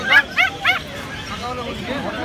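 Three quick, sharp barks from a dog at a street dog market selling Golden Retrievers, close by, followed by softer yips over faint crowd babble.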